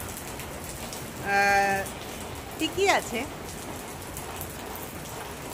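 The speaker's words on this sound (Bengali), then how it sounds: "বৃষ্টি পড়ছে, তবে অত মুষলধারে পড়ছে না" Light rain falls outdoors as a soft, steady hiss in the background while a person speaks briefly over it.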